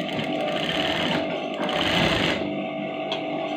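A sewing machine stitches a chudithar top in a continuous, loud, close-up whir that runs without pause.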